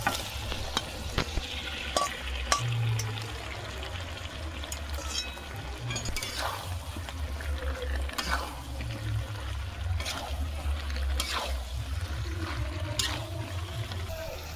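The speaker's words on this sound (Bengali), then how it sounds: "কষানো হয়ে গেছে, ভেজে রাখা আলু দিয়ে দেবো।" Potatoes fried earlier are stirred into a pan of well-cooked spice masala for aloor dum, giving a steady close sizzle with scraping and stirring strokes that runs throughout.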